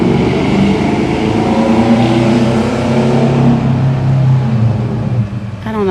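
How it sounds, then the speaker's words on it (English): A small car's engine roars loudly and steadily nearby, its droning pitch sliding and shifting as it revs, continuous for several seconds before easing off at the end. "I don't know why that little car making all that noise."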